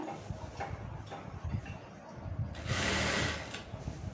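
Sewing machine stitching a dress pant, a steady mechanical whir with irregular clicking that swells louder and brighter near the end, heard alone without talk.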